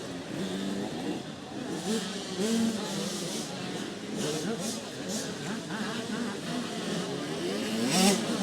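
Motocross motorcycles racing at a French championship round in Gaillac-Toulza, engines revving and buzzing at a distance in overlapping waves beneath continuous commentary.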